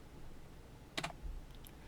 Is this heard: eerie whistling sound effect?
no